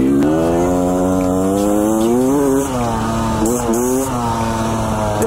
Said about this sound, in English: This revs out fine.